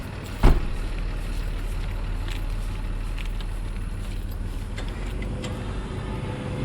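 Jeep towing a giant box truck: a thump at the start, then a steady low engine rumble as the truck begins moving, with buffeting outdoor wind noise throughout, fairly loud and continuous.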